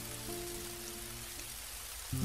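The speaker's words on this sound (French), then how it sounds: "la pluie se renforce sévèrement." Heavy rain falls steadily on an Auvergne mountain hiking trail, a dense, even hiss throughout with a low droning hum underneath that swells briefly near the end.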